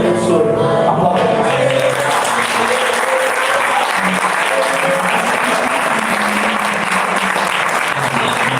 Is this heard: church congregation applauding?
yes